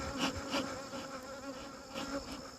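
Honey bees buzzing around a hive on a Michigan farm amid goldenrod and sweet clover, a dense close drone of many wings with individual bees swelling past.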